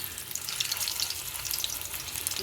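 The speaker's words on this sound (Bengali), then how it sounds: "এই আলুগুলো দিয়ে দিই আলুগুলো একটু ভেজে নেবো প্রথমে" Potatoes frying in hot oil in a home kitchen, a steady crackling sizzle that stays loud and close throughout, with no voices over it.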